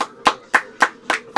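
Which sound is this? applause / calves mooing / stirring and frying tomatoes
applause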